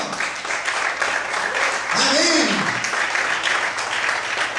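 A church congregation applauds during a Portuguese-language sermon, a steady wash of clapping that swells midway as a voice calls out over it.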